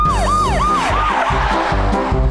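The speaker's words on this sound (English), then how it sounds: "Call an ambulance." A wailing ambulance siren in Minecraft rises and falls in repeated sweeping cycles over a low engine-like drone, loud and close, with no talking.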